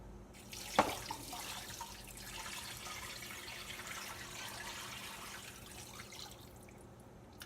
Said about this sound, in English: I'm just going to pour the broth over top of the bones.